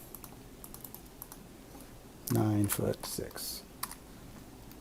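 Keystrokes on a computer keyboard as measurements are entered in drafting software: light, scattered clicks followed by a short burst of typing, with someone speaking over them.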